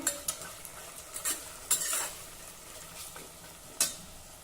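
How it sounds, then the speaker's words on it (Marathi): Vegetables sautéing in a pan crackle softly under a handful of quick scraping stirs, close but fairly quiet, with no voices. "हे सर्व साहित्य आपल्याला थोडं परतून घ्यायचं आहे"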